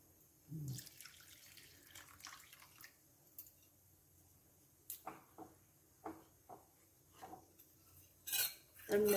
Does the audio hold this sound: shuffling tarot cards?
no